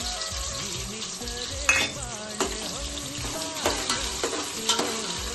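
Chopped onions, three of them, frying in hot oil with spices for chicken biryani, a steady close sizzle with a few sharp stirring scrapes and clinks of the spoon against the pan.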